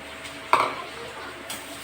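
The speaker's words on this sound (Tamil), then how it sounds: "நல்லா தக்காளி வதக்கலாம்" Chopped tomatoes sautéed and stirred in a pan for a paneer roll, giving a single clattering scrape of a spoon against the pan partway through, then a soft sizzling hiss and a faint clink near the end.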